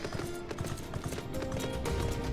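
Horse mount hooves in Final Fantasy XIV Endwalker, a steady run of clip-clop steps over busy game music and ambience, fairly close but partly buried in the mix.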